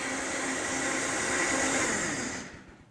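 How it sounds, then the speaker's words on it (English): A Vitamix blender runs on high with a loud, steady whirring roar that holds throughout and then winds down at the end. "Cover the top real good and turn that on high."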